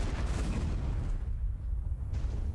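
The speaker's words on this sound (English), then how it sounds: "More explosions?" Explosions in the video game Yakuza Kiwami: a dense, low rumbling boom with crackling bursts that fades after about a second into a quieter low roar, fairly loud and with no talk over it.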